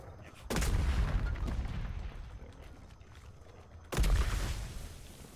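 Gunfire in the video game Atlas: two loud, broad booming shots about three seconds apart, each trailing off into a rumbling tail, with no talking.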